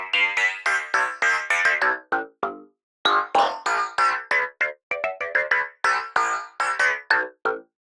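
Massive X synthesizer with the Animator on, firing a rapid rhythmic run of short plucked, bell-like synth notes that hop in pitch, a brief pause, then the pattern resumes, clean and alone.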